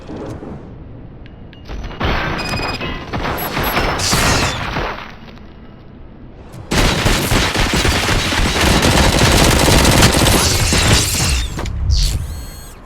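Rapid automatic gunfire in the video game Robocop: Rogue City comes in two long loud sustained bursts, with mechanical clanks and a short lull between them.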